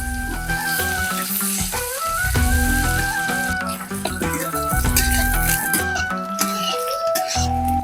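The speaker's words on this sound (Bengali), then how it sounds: "ওই মাছ ভাজার তেলে পেঁয়াজ ও কাঁচা লঙ্কা দিয়ে হালকা ভেজে নেব।" Sliced onion and green chili fry in oil left from frying katla fish, giving a continuous close sizzle under steady tonal hum and scattered clicks from stirring, with no talking.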